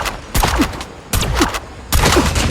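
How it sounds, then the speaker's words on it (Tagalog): Video game gunfire rings out in three separate rapid bursts, each sharp and loud, with short gaps between them. "Bumabaril ka pa talaga."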